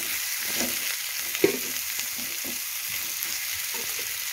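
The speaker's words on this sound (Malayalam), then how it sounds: "ചുവന്നുള്ളി വെളുത്തുള്ളി ചതച്ചത്, പച്ചമുളക്, ഇഞ്ചി ചതച്ചത് ഇട്ടിട്ട് വഴറ്റണം." Crushed shallots, garlic, green chili and ginger sautéing for beef biryani give a steady, close sizzle, with an occasional stirring scrape and one sharp clack midway.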